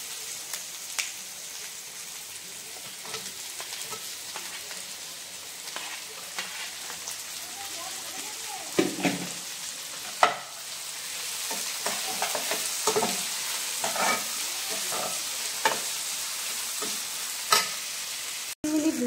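Onion and chopped tomato fry in a pan for dhaba-style tadka dal, a soft continuous sizzle broken by occasional scraping stirs and a few sharper knocks of the utensil against the pan.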